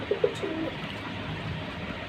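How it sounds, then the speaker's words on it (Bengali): A pigeon gives a couple of soft, low coos close by, followed by quieter murmuring coos against a faint background hum. "খুব সুন্দর কবুতর দেখেন"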